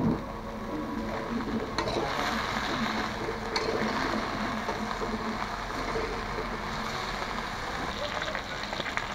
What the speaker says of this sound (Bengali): দিয়ে আমরা ফুলকপিটা লাল লাল করে একটু ভেজে নেব।